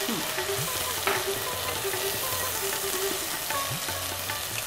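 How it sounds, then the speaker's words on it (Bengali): About three tablespoons of onion fry in a pan for a Bengali egg curry, giving off a loud, continuous sizzle with a dense crackling hiss close by. "3 টেবিল চামচ মতন আমরা পেঁয়াজ দিলাম"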